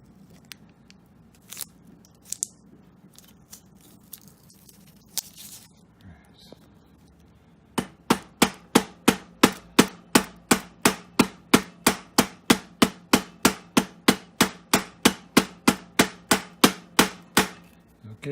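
A bicycle seat post is tapped down into a broken frame with a steady run of sharp, evenly spaced knocks, about two per second, after a quieter stretch of scattered clicks and handling noise.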